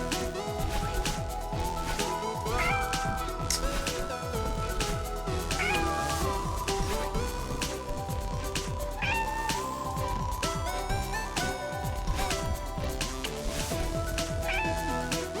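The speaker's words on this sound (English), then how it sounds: "Dedicated meow button is goat." A cat meow sound effect fired off a dedicated meow button over and over during a game livestream, repeated meows layered over continuous loud game music.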